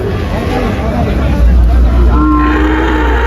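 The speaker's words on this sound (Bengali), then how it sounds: "এই যে এখানে একটা গাভী আছে দেখেন" At a busy cattle market in Faridpur, a cow gives a loud, deep, drawn-out moo close by, over the crowd babble and people talking around it.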